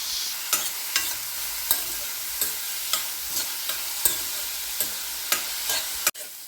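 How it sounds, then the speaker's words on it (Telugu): Chopped onions fry with mustard and cumin seeds for a South Indian tomato curry, a steady close sizzle punctuated by regular taps and scrapes of stirring and one sharp knock near the end. "చూసారు కదండి, ఉల్లిపాయలు చక్కగా వేగాయి."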